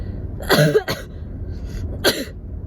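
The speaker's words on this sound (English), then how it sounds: "That was a cough from my drink." A few sharp coughs from choking on a drink burst out close by, two quick ones near the start and another a moment later, with quiet room noise between.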